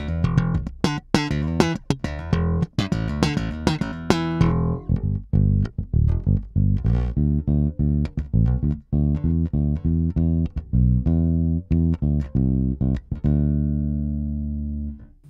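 A Sandberg VT5 Highgloss electric bass with its EQ bass boosted plays alone: a quick run of plucked notes, then slower, ringing low notes with long sustain.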